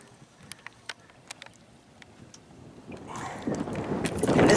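A kayak paddle splashes on Abiquiu Lake, a large U.S. Army Corps of Engineers lake in New Mexico: faint, scattered drips and light strokes at first, then rising water rush and wind noise close to the microphone.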